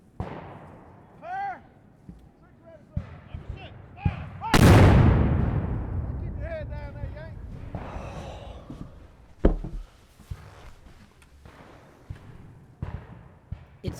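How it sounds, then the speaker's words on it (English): Cannon fire in a battle setting: one huge close blast that rumbles away over several seconds, with sharper reports later and voices reacting between them. "Too close to the cannons out there."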